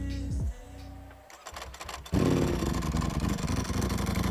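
Ducati V4R motorcycle engine cranking briefly, then catching and settling into a rough, loud idle close by.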